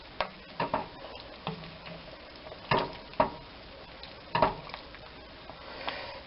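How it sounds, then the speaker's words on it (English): Spoon scraping and clinking in a pot of Irish pork stew, several irregular knocks and scrapes against a low simmering background. "Give this a good stir again."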